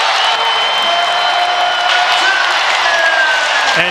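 Basketball arena crowd at a Suns versus Warriors NBA game cheering and roaring loudly and steadily, a dense wall of noise with whistles and shouts cutting through, close and continuous for the whole stretch.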